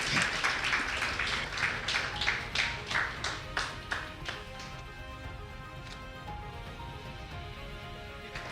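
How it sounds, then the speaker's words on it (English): Scattered clapping from an audience at a female business award ceremony, loosely rhythmic individual claps that grow sparser and fade out over several seconds, fairly faint with no talk over them. "Oh, keep clapping."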